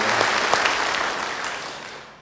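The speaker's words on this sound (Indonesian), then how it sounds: "Yang percaya beri tepuk tangan yang meriah bagi dia." A church congregation bursts into loud, dense applause that fades gradually over a couple of seconds.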